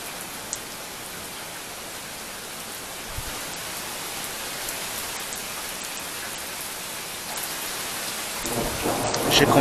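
Heavy rain pours steadily on surfaces during a thunderstorm, and a deep rumble of thunder swells loudly near the end.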